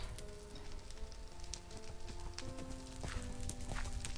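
Horse hooves in Minecraft, a steady clip-clop of rapid, evenly spaced hoofbeats with a faint hum of game background sound and no talking.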